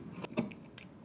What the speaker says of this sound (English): I'm going to trim off about 1/4 inch